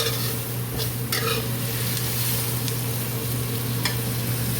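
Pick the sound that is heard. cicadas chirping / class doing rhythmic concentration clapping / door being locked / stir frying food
stir frying food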